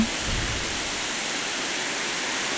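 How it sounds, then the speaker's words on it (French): The Nervia river at Dolceacqua rushes past with a steady, broad hiss of flowing water, continuous and even throughout. "La rivière, la Nervia,"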